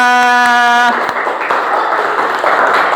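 A classroom of pupils claps together after a sustained tone cuts off, a brief burst of mixed hand clapping with some voices and taps.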